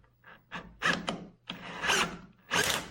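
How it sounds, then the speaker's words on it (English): A power drill whirs in several short bursts, boring through a thin top sheet of metal into wood beneath, each burst rising and stopping with brief pauses between. "So now you just want to drill it to where you just hit the wood."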